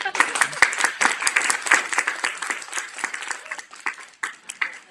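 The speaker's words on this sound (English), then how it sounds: "let me know with your clapping" An audience at the SoulSearch Enlightenment Expo in Burlingame claps steadily for about five seconds, a dense crackle of many hands that tapers slightly toward the end.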